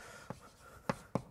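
Chalk or marker strikes a board during a mathematics lecture on Shimura varieties, a few short, sharp taps and strokes heard faintly in a quiet room with no talking.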